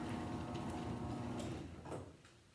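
A LiftMaster garage door opener drives the door, giving a steady motor hum and mechanical rattle that carries on evenly, then fades and thins out toward the end.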